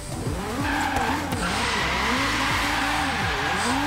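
Tires squeal in a continuous sliding howl over a loud, revving engine as a car drifts in Forza Horizon 3, with the screech rising and falling in repeated arcs throughout.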